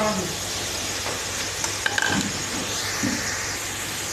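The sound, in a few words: onions added to desi chicken karahi, sizzling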